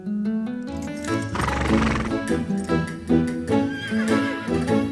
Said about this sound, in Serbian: Taj konj zvuči kao tornado.